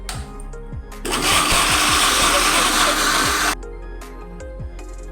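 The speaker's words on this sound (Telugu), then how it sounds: "బెల్లము మళ్ళీ నువ్వుల పొడి రెండు కలిపి ఒక్కసారి ఒక్క బరక తిప్పాలి మిక్సీలో" Mixer grinder grinding jaggery with sesame powder starts with a loud, broadband whirring roar after about a second and runs steadily for roughly two and a half seconds before cutting off, with faint kitchen clatter before and after.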